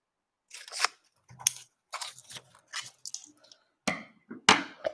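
Scissors snip through a fondant template for a telescope cake topper in a series of short, crisp, close-up cuts separated by brief pauses, with no talking.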